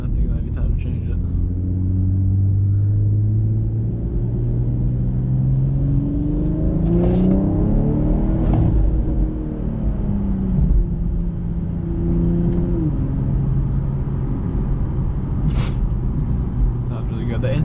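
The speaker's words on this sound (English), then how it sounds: "The intake got a lot louder." A tuned BMW G42 M240i on a night drive, its engine and intake droning and rising in pitch through repeated accelerations, steady and loud inside the cabin with no talk.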